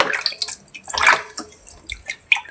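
Raw chicken pieces are rinsed by hand in water, with irregular splashes, drips and sloshes close by. The sounds come in short bursts separated by brief quiet gaps.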